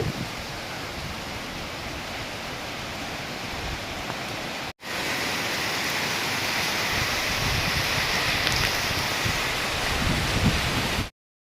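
Steady, loud rushing wind buffets the microphone with a brief cut partway, a constant broadband roar throughout.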